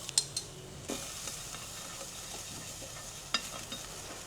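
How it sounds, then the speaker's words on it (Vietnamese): Quiet, steady sizzling of a spoonful of minced garlic frying in a pan, with a few soft clicks and stirring taps. "mình sẽ cho 1 muỗng tỏi băm vào đây để phi thơm"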